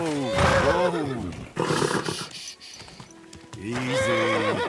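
A horse in the video game Kingdom Come: Deliverance II whinnies loudly twice, the calls rising and falling, with a brief low rumble between them.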